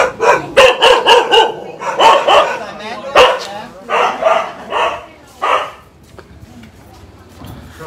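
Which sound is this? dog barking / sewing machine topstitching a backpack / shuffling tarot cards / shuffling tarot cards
dog barking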